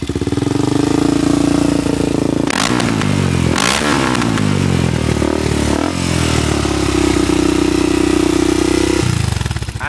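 Honda XR dirt bike engine cranked up and running, loud and close, with a steady rattling idle broken by a couple of sharp revs and clatter in the middle.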